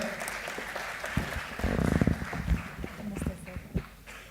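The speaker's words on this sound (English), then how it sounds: "A big round of applause for Dr. Rebecca" An audience at a pre-departure ceremony for MBBS students bound for Russia claps for Dr. Rebecca, a scattered, mid-loud patter of hands that swells briefly in the middle while voices talk over it.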